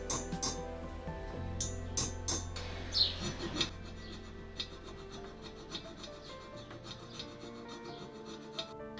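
A bronze casting of the Winged Victory of Samothrace is smoothed with a matting tool and carbide burrs on a Dremel. Close, continuous rasping and filing scrapes come in short repeated strokes, with a few sharper scratchy bursts and no talking.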